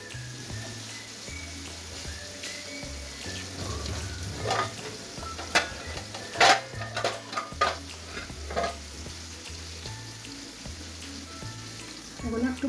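Food sizzles and fries in a pan while a utensil stirs it, with scraping clinks and bursts of crackling over a steady sizzle and a low hum in the background.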